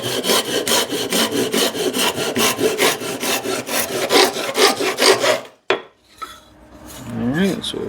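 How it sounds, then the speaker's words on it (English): A handsaw cuts a small wooden back piece for a French cleat in a workshop, with steady rapid back-and-forth strokes, close and loud, for about five seconds before stopping abruptly, followed by a few faint clunks. "then we'll cut our little back piece"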